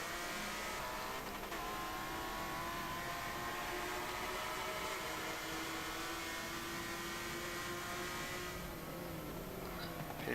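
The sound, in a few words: BMW M3 race cars racing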